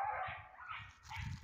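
Hunting dogs in the woods bark excitedly in quick, overlapping yelps and barks, close by, while baying a tegu lizard they have found.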